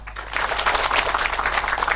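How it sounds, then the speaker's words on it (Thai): An audience at a provincial meeting in Chainat applauds its leaders, dense overlapping clapping sustained and fairly loud throughout, with a low steady hum beneath and no one speaking. "ขอเสียงปรบมือให้กับผู้นำของท่านเอง"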